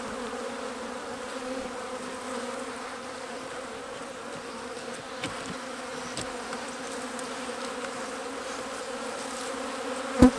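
Honey bees fly around a hive, a dense continuous buzzing hum from many insects close by, with a faint click near the end and no talking.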